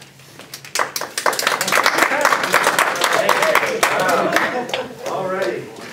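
Applause from an audience at a town meeting rises quickly and holds as a steady, close patter of many hands, with a voice speaking over it before it fades.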